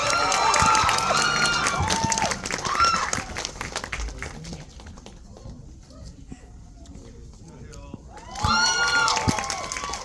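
At a crowded Seoul Spring talk event, an audience welcomes director Lee Jung-jae with dense rapid clapping and high shrill cheers that fade mid-way, then surge again near the end.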